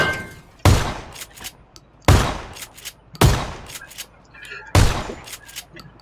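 Four heavy gunshots ring out in PUBG, each a sharp loud blast with a trailing echo, spaced about a second apart and standing alone without talk.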